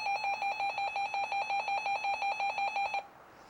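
Weather radio warning alert tone: a loud, steady electronic beeping that pulses rapidly and evenly for about three seconds, then cuts off abruptly, leaving quiet room background.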